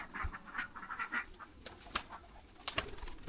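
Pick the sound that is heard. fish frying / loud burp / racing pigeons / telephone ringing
racing pigeons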